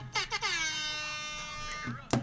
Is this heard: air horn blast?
yes